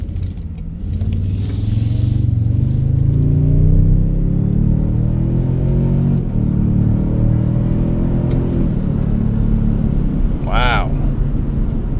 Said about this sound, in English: hit sport mode, and we are ready for launch